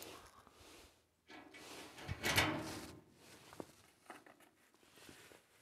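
Door of a Harbor Freight U.S. General hanging tool cabinet swung open and shut, giving a few close, brief knocks and a louder metal clunk with light rattles, no talk.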